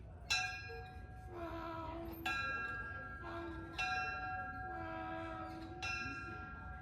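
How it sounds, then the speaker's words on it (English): An ordinary diesel locomotive bell clangs at a Union Pacific railfan event, striking four times at roughly one-and-a-half-second intervals. Each metallic ring sounds clear and fades against faint background noise. "This is your ordinary type diesel locomotive bell."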